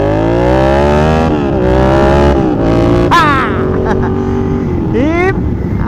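A Yamaha MT-07 motorcycle engine under way on a sunny ride, a loud close drone whose pitch climbs and falls with throttle changes, including a quick rev around the middle and another rising surge near the end.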